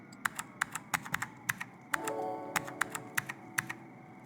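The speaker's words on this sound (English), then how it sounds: "and I'm typing with one hand." Single-handed typing on a computer keyboard: a sparse, uneven run of sharp, close key clicks, about fifteen strikes with irregular gaps, and a brief faint hum midway, no voices.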